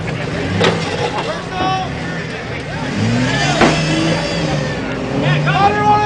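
A Willys off-road rig climbing a hill at an off-road course, its engine droning and shifting in pitch at a moderate distance while people talk over it.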